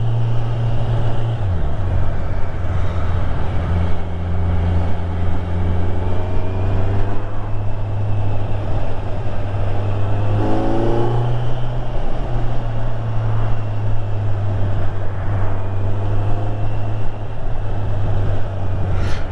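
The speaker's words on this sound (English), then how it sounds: "Quite a lot of traffic out at the moment." Road traffic roars past a Kawasaki Z900 motorcycle on a busy road, as a steady loud rush of engine and tyre noise with a constant low hum.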